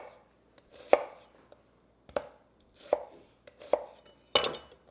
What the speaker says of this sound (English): And I'm just gonna cut the onion into some wedges as well.